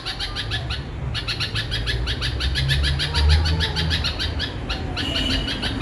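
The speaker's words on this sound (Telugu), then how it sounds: "పక్షులు బిడ్డ కోసం ఎంత బాధపడుతున్నాయి అసలు." Several birds calling over and over in distress for their chick on a rooftop garden in the rainy season, steady repeated high cries layered through the whole stretch over a low background rumble.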